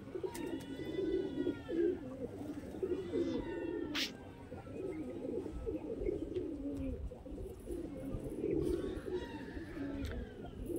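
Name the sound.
Madrasi pigeon cooing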